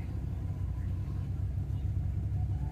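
A diesel engine, just started after a tappet clearance adjustment, runs with a close, steady low rumble and chugging throb, and a voice talks over it.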